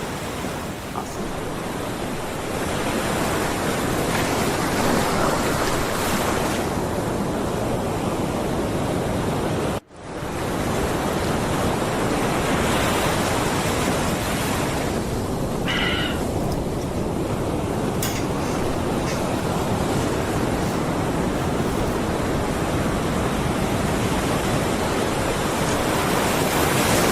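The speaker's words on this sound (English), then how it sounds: "I'm going to increase the audio on the ocean, on the sounds of the ocean" Recorded ocean waves give a loud, steady wash of surf that runs the whole time, broken only by one brief dip, with no voices over it.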